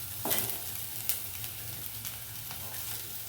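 Chopped large onion sizzles and crackles in an oiled pan, a steady frying hiss with a few sharp stirring scrapes, heard close and fairly soft with no talking, while cooking a kohlrabi stir-fry.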